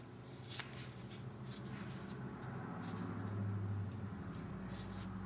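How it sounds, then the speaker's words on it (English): A paper fan, made from folded paper for a pumpkin decoration, is creased in half. Several short papery crackles and rustles sound close by over a steady low background hum, with no talking. "fold it in half"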